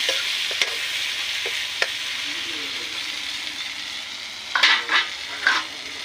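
Pork and rice cooking in a pan, with a soft steady simmering hiss, a couple of sharp utensil taps, then a cluster of scraping stirs near the end.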